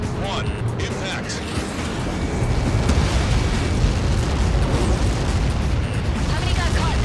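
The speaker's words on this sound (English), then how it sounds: "How many got caught in that explosion?" A missile blast in the Ace Combat 7 video game rolls out as a loud, sustained, broadband rumble that swells midway and stays dense for several seconds, with faint game voices mixed in.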